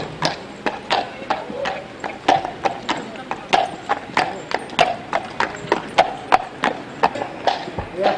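Hooves of a horse pulling a waste collection cart in Saint-Jean-en-Royans clip-clop in a steady, even trot, loud and close, with each strike sharp and distinct and faint voices underneath.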